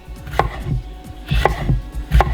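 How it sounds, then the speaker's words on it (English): A knife chops bell peppers into slices on a cutting board, making three or four crisp, evenly spaced thunks close by, with no speech. "the pepper into slices, and then I'll go down and hit it again so that way it's a bit more fine pieces of pepper"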